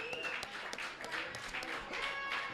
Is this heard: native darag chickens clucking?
no